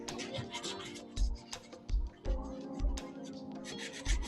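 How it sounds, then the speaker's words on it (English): A scrub brush rubs in short, uneven bursts against a shoe on a flat tabletop, soft scratchy strokes with small knocks between them, fairly quiet. "feel free to take your shoe out of the basin and do some of the scrubbing on the flat surface of your table"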